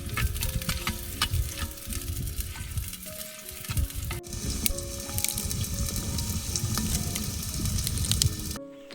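Ginger garlic paste, about one and a half spoonfuls, sizzles and spits loudly in hot oil in a village kitchen pot, a steady dense frying hiss with stirring scrapes, briefly louder after a fresh addition near the end.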